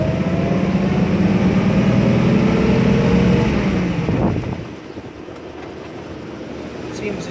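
Engine hum of a 1935 Ford rumble seat convertible driving near Detroit, Michigan, with a steady tone that rises and then drops off as the gears shift, heard from inside the car, followed by a quieter running idle.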